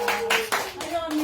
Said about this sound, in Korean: 우리 박수 좀 쳐주세요.